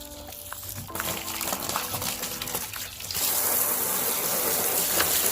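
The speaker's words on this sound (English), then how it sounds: "I'm gonna put some water in here while I'm out here." Water poured from a container into the water bowl of an outdoor Russian tortoise enclosure, a steady close splashing gush that starts after a few seconds of rustling handling noise and keeps running to the end.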